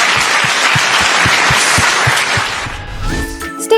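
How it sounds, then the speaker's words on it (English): A campus audience gives Rahul Gandhi a loud, sustained round of applause with dense clapping throughout, fading near the end as a voice begins speaking. "can we give him a round of applause?"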